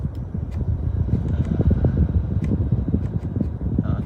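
The cabin air-conditioning fan of a Proton X50 blows in a steady low whoosh close by, with faint soft clicks from dashboard controls on top.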